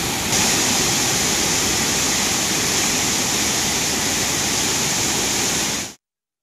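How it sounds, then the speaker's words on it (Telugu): The Chintoni Gumpu waterfall, about 15 km from Bayyaram in Telangana, roars as a steady, loud, continuous wash of falling water heard close up, without voices, until it cuts off abruptly. "చింతోని గుంపు జలపాతం ఏకంగా మినీ బొగతను తలపిస్తుంది"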